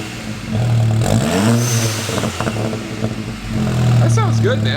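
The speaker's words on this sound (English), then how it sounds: "Rev her up, Santa." Volkswagen MK7 GTI with an APR downpipe and AWE cat-back exhaust revving loudly nearby in several rising and falling sweeps, ending with a brief chop, while people talk over it.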